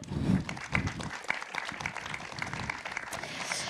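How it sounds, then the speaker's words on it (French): Lecture audience applauding an academic speaker at a talk on ageing, producing a continuous patter of moderate, fairly close clapping. "vous pouvez l'applaudir."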